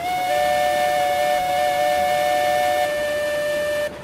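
A steam locomotive whistle from the train game Railroads Online blows one long, steady, shrill blast for nearly four seconds, loud and close, with a slightly wavering pitch before it cuts off.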